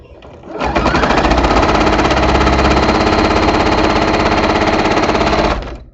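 A sewing machine stitching a seam on quilt half-square triangles: a loud, close, rapid mechanical chatter that starts abruptly, runs steadily for about five seconds and then stops, with no talking over it.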